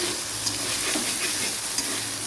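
Masala with soybean chunks being sautéed in a pan, a steady close sizzle and frying hiss with light stirring scrapes throughout, no voices.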